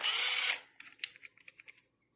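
A Makita 12V CXT brushed impact driver fires a short burst of whirring, then gives several quick trigger blips that fade out, close and clear with no talking.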